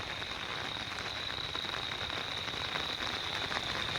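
Heavy morning rain pours steadily over farm fields and a well, a continuous dense hiss with no pauses or voices.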